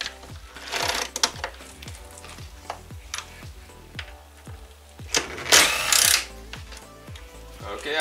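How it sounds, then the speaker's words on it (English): Torx bit and ratchet working valve cover bolts loose on a BMW E46 engine, a quick run of close, repetitive clicking and scraping ticks with a louder burst of rattling near the end, no speech. "you can see four bolts right there that we need to remove with a Torx bit"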